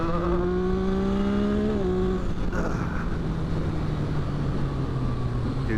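Yamaha XSR900 / MT-09 motorcycle engine pulling hard up a hill, a loud rising rev that climbs steadily for two seconds, then shifts and settles into a lower continuous drone under wind noise.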